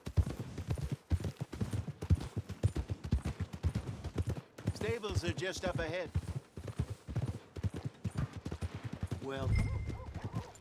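Rapid rhythmic clip-clop of horse hooves in Red Dead Redemption 2 continues throughout, close and busy, while people talk over it briefly.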